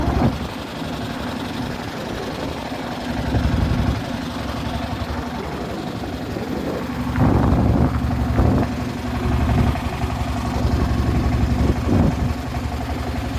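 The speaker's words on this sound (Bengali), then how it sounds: "এইদিকে অনেক ট্রলার দেখতে পাচ্ছি আমি" A trawler boat engine runs near a village beside a haor wetland, a steady low idling drone that swells louder in several surges, with faint knocking pulses on top and no talk.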